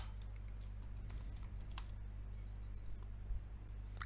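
Scattered, quick key clicks from a computer keyboard being typed on, fairly soft over a steady low hum, with no talking.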